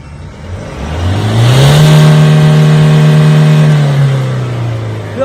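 A diesel engine on an exhaust emissions test revs up as the accelerator is pressed, its loud droning tone rising, holding high for a few seconds, then easing back down.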